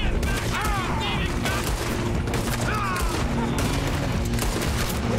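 Dense, continuous gunfire from a Red Dead Redemption 2 shootout, with rapid overlapping shots and booms under loud game sounds and voices throughout.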